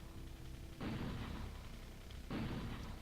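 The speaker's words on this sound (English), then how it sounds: "it's gonna take an extra shot to kill this guy because I left it too long since I last shot him" Two loud, sharp gunshot blasts from a weapon fired at a biter in the Factorio video game, each with a short decaying tail, spaced about a second and a half apart over a low game background, with no talk.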